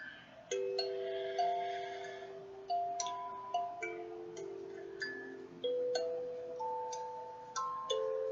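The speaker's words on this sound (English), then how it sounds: "And the little fairies would chime in too." Soft magical fairy chimes ring in a slow run of bright, bell-like notes, each struck clearly and left to fade, forming a gentle melody with no voices.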